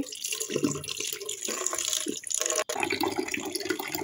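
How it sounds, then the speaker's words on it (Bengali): Jute leaves being washed under running water, with close splashing, trickling and dripping that shifts as the leaves are handled, and no talking. "তো আমি পাট শাকগুলো ভালো করে ধুয়ে নিতেছি।"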